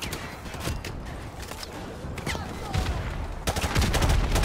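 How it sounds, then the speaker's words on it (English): Bursts of gunfire and explosions from a Modern Warfare Remastered firefight, rapid irregular cracks and booms layered over one another, growing louder and denser toward the end. "Explosions everywhere."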